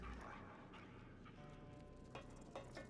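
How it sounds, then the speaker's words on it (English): Hostile dogs in the fantasy role-playing video game Divinity: Original Sin 2 growl and give a few short barks, moderately loud amid game ambience, with no talking over them. "Those dogs sound out for blood."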